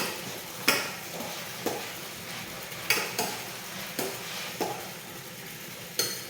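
Oil sizzles steadily in a pan while a utensil stirs and scrapes during tempering for a South Indian dish, with sharp clinks of metal against the pot every second or so.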